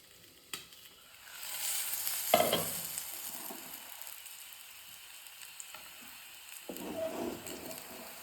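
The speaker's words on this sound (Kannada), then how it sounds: "ಎಣ್ಣೆ ಹಾಕಿ ರೊಟ್ಟಿನ ಚೆನ್ನಾಗಿ ಸಿಮ್ಮಲ್ಲಿ ಬೇಯಿಸ್ಕೊಳ್ಳೋಣ" Soft, steady sizzling of a rice-flour rotti flatbread frying in oil in a pan on low heat, with a brief clatter and louder crackle bursts around the middle and near the end.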